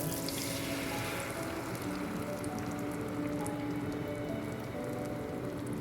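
Beaten eggs hit a hot pan over a medium flame, giving a steady, close crackling sizzle like light rain that holds evenly throughout with no talking.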